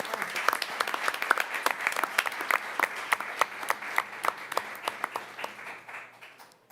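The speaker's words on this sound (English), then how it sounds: "Again, we want to give our young people another round of applause." Applause at a school board meeting honoring graduating seniors: a scattered round of clapping from a modest audience, individual claps distinct and close, gradually thinning and fading out.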